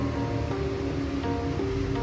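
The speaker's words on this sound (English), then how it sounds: "So I know it's a little windy right here" Steady, dense wind rushing outside a horse barn, a continuous broadband roar with no breaks and no talking.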